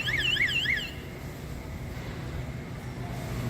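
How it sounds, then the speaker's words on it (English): An alarm sounds inside a Walmart store in the U.S., a loud warbling electronic siren lasting under a second before it stops, leaving steady indoor ambient noise. "Alarm's going off here."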